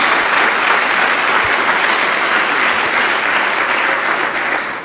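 A church congregation gives a round of applause to Jesus, loud, dense clapping from many people that holds steady and begins to ease off toward the end.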